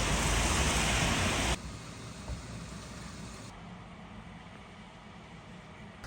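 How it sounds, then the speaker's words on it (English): Rain falls on a van freshly coated with two coats of primer during a rust repair, a steady dense hiss that is loud at first, then drops to a softer continuous patter. "I could not believe it started to rain after I just got 2 coats of primer on."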